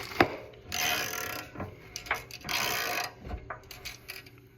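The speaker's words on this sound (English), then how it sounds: "Put your ratchet with your socket." Ratchet socket wrench snugging the spark plug of a go kart engine, heard as a few close bursts of quick ratcheting clicks separated by pauses.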